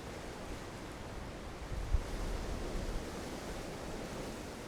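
Steady broadband wind roars and buffets against the microphone throughout at Fewston and Swinsty reservoirs, with one brief thump in the middle and no voices.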